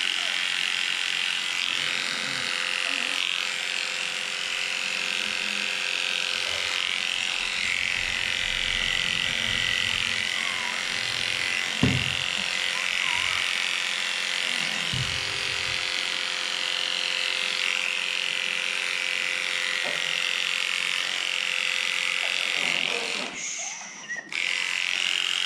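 Electric clippers buzz steadily and close up while shaving the neck and chest of a pug with breathing problems, with a few soft thumps and snuffly sounds in the background.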